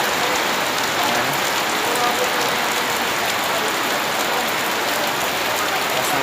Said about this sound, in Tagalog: biglang pumuhos po ang ulan